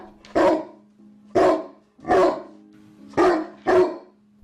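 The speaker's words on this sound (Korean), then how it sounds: "개 짖는 소리가 골목길에 울려 퍼지자" Five loud dog barks in an uneven rhythm, close by, with a steady low hum running underneath.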